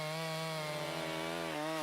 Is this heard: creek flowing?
no